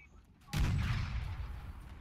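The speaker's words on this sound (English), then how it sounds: "Fire the artillery right there." A sudden booming blast of artillery fire in the video game Holdfast erupts and rolls on as a loud, rumbling barrage, with a faint tone beforehand.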